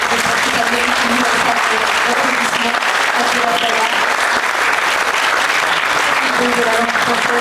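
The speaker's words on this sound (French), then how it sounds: "on peut continuer à applaudir" A crowd at the inauguration of the Brive book fair applauds continuously, a dense, steady roar of clapping held at full strength, with faint voices mixed underneath.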